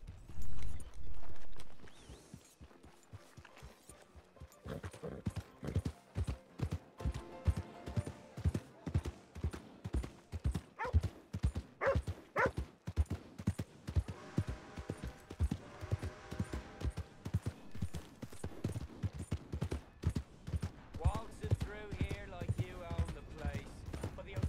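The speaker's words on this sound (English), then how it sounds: "Come on, you dumbass horse." Horse hooves clip-clopping in Red Dead Redemption 2, a steady rapid run of hoofbeats that fills most of the stretch, with a voice talking at times over the galloping.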